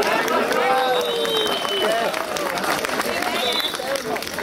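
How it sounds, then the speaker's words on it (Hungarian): An audience at a 2015 Veszprém election campaign speech bursts into dense, steady applause, with crowd voices and a few whistles rising over the clapping throughout. "Mindenki tapsol, minden."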